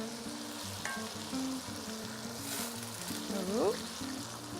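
Broth poured into a pan of chicken and rice for Brazilian galinhada sizzles and bubbles loudly and continuously up close, with faint tonal background sounds.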